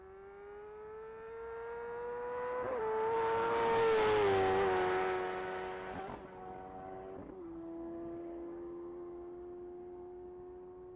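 A 1,000cc Kawasaki Ninja ZX-10 motorcycle on a top-speed mile run at a racing event, its engine whine climbing and then holding steady through several gear shifts, loud and sustained with no talk.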